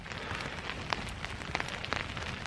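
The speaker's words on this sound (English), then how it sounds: "The fire has built up enough heat now that every bit of rain is evaporating before it even hits the fire." Rain pattering and hissing onto a hot campfire while wild camping in the Scottish Highlands, a steady close crackle of drops with sharper sizzling flecks scattered throughout and no voices.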